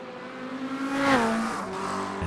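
A GT3 Corvette and McLaren racing three wide at Interlagos in iRacing, with loud engine notes swelling and shifting pitch as the cars pass close by, plus a brief tire squeal.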